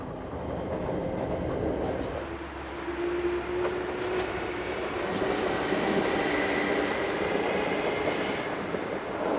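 A train runs on the Bodensee-Toggenburg Railway near St. Gallen, a steady loud rumble of wheels on track with a faint squeal and occasional clicks, heard from on board.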